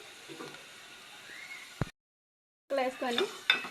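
Mutton curry ingredients stirred in hot oil: soft scraping and sizzling with a sharp utensil knock, a brief silent gap, then clattering stirring strokes close by.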